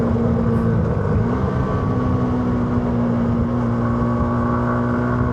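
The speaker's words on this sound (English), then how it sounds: "Engine does seem a bit rattly for 125, doesn't it?" Yamaha R125 motorcycle engine running while riding, with a rattly note. It gives a steady, loud, continuous drone with a constant pitch and no talk.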